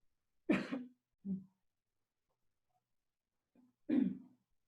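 Several short coughs in quiet surroundings: a pair of harsh coughs, a softer one, then a final stronger cough after a pause.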